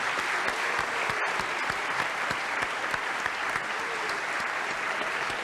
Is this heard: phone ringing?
no